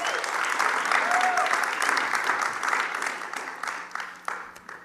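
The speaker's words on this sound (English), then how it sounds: "Let's give a round of applause" Audience applause for panelists at a Zoroastrian community advocacy panel: a full, steady round of clapping that holds for about four seconds, then thins and tapers at the end.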